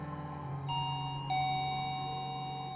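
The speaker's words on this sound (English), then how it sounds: "somebody rang the doorbell" A doorbell rings inside an apartment with two bright electronic chime tones in quick succession, the second lingering and ringing out over faint room noise.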